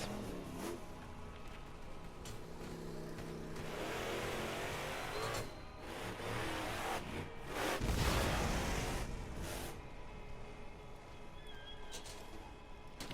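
Engines of vehicles racing in the Borderlands video game rev and accelerate loudly and steadily, swelling to a peak midway, with game effects layered over the roar and no talking.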